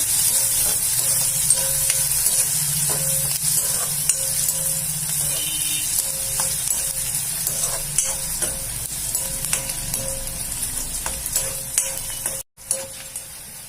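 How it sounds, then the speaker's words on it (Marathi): Finely chopped onions frying in a pan for Khandeshi bharit, a steady close hiss and sizzle running throughout with occasional stirring scrapes. "कांदे चांगले लाल होईपर्यंत आपण भाजून घेऊ"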